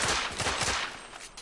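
A quick, close volley of rifle shots in the game The Order: 1886 rattles off in the first moment, then fades into a fainter tail.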